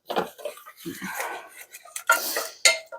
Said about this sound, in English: I'm just going to give that cranberries a stir.